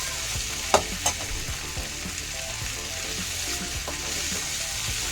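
Chickpeas and potatoes with chutney are stirred together in a pan on a gas stove, giving a steady, moderate sizzle with a couple of sharp utensil knocks near the start and soft scraping throughout.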